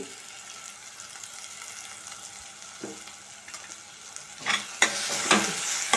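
Asafoetida drops into hot oil in a pan while misal curry is being made, giving a steady low sizzle that flares into louder crackling bursts in the last two seconds, close up and with no voices.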